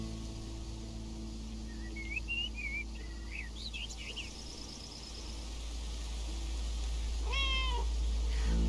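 Cats meow in a run of high, wavering calls near the start and again with a single drawn-out meow near the end, over a low steady hum, with no voices.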